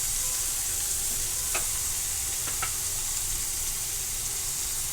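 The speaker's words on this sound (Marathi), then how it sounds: "आता व्यवस्थित पनीर आपलं फ्राय झालेलं आहे" Paneer cubes frying in a pan for shahi palak paneer, giving a steady close sizzle with a couple of light spatula taps and scrapes, no talking.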